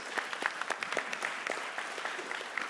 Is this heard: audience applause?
yes